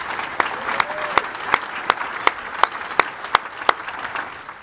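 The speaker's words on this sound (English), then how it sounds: "They started clapping before they even knew why they were clapping." An audience applauds at a corporate sustainability milestone event, a steady bed of clapping with sharper individual claps standing out at regular intervals throughout.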